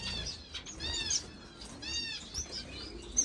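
Owl finches and other small finches in an indoor bird room, with repeated high chirps and tweets plus soft bursts of wing flapping, close and moderately loud with no talk.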